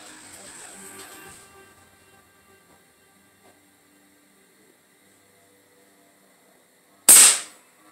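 A single sharp airgun shot at 7 seconds, a loud bright crack with a short ringing tail as the pellet strikes a coin, preceded by faint rustling and quiet background hum.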